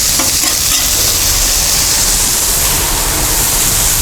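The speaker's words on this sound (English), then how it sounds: "Get the sizzle going up." Onions, yellow peppers and mushrooms sizzle steadily on a Blackstone griddle, a loud, dense, continuous frying hiss with no pauses and no talking.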